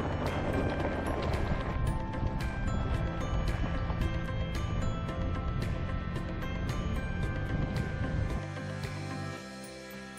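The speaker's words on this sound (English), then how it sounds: "Driving through a dry riverbed." A vehicle rattling through a dry riverbed on a washboard road in Big Bend National Park, tires partly deflated, giving a loud continuous rumble and jostling clatter that eases off near the end.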